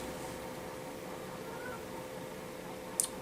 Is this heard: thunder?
no